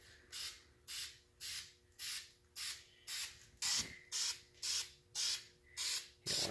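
Short regular bursts of aerosol spray paint, about a dozen evenly spaced hisses, as an engine oil pan from a 5.0 V8 gets coated hot pink, close and clear with no voices.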